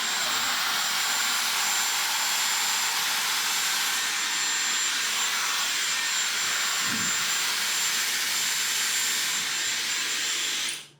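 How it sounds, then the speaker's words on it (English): A hairdryer blows continuously at close range during a hair blow-dry, a steady airy roar that holds level throughout before cutting off abruptly at the end. "So try to do some of it with the hairdryer."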